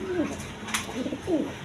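Quality pigeons at a sale coo close by in two soft, rolling calls with a short pause between them.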